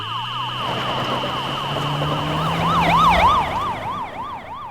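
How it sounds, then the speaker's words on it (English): A loud, close police car siren wails, shifting from a steady tone into a rapid rising-and-falling yelp, with a low engine rumble underneath. "the siren sounded."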